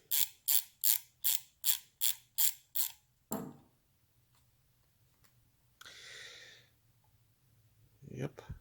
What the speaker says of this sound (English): Now we can take the main body bolts out.